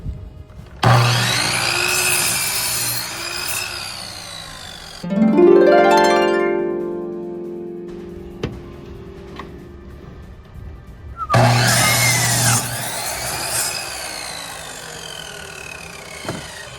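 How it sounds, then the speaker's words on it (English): A saw cuts 2x4 boards at a 45-degree angle for simple DIY shelves: two loud, close cutting bursts, with the motor whine rising and falling briefly between them. "I'm gonna cut a 45-degree angle on the end of half of them."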